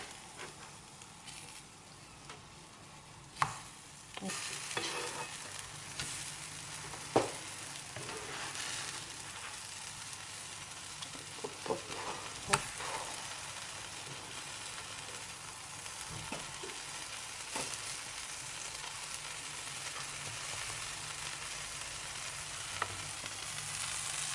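Sesame batter sizzles steadily in a frying pan, a continuous frying hiss with a few sharp clicks and scrapes as it is stirred and flipped, with no voices.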